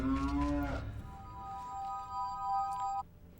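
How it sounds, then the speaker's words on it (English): A cow in The Legend of Zelda: Majora's Mask lets out a loud, low moo, followed by a bright sustained chime tone that rings for a couple of seconds and then cuts off. "Oh, it's just a cow."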